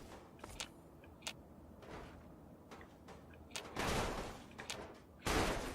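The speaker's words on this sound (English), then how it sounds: "What are you guys shooting at?" Gunfire in the video game Fallout 3, a scattered run of faint, sharp shots at irregular intervals, ending in a couple of louder bursts over quiet ambience.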